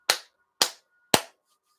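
Three evenly spaced, loud hand claps struck firmly and close by, each a crisp smack with a short decay into quiet.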